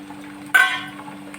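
Tomatoes tipped into hot oil with golden fried onions, a sudden short sizzle and splash that fades quickly against a low steady hum, with no talk.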